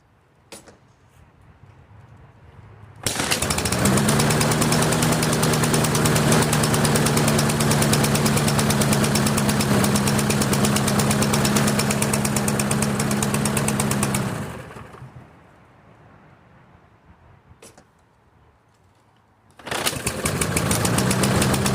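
Briggs & Stratton 6.25 lawn mower engine with a plastic carburetor on a Craftsman AWD mower, sitting unused for years, runs loud and steady for about eleven seconds, cuts out, then starts up again near the end.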